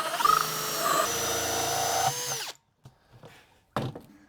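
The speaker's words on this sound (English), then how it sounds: "So we're just gonna mark around them and we drill that out." A power drill bores holes for Flow Hive outlets in wood, whining loudly and steadily for a couple of seconds before cutting off, followed by a few brief knocks and a short final burst.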